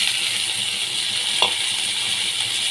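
Chopped onion and tomato fry in oil with black cumin seeds in a pan while a katla fish curry is cooked, a steady, bright hiss of sizzling with one small clink partway through.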